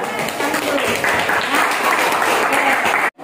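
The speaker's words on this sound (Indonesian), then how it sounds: "tepuk tangan juga untuk kelompok 2 yang sudah bertanya ke kelompok 4" Classroom applause from students for group 2 after their question to group 4, a dense steady patter of clapping with voices mixed in, ending abruptly.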